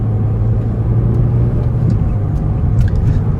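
A 2013 Mini Cooper S Coupe engine drones steadily from inside the cabin while driving, a loud continuous low hum with road rumble and no talk.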